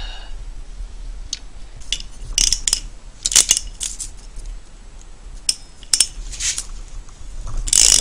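An ATC 200S motorcycle engine is turned over by hand, giving scattered metallic clicks and light mechanical clatter at close range, irregular and quiet against a faint background.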